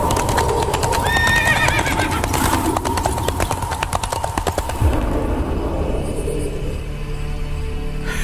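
In a video game, a horse whinnies loudly, followed by a rapid clatter of hooves, then a low rumble as the sound fades.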